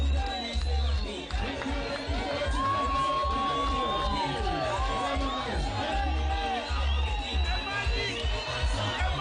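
A big crowd at an FDC political rally on open grounds in Soroti murmurs and cheers, with occasional whoops and voices carrying above the steady hubbub.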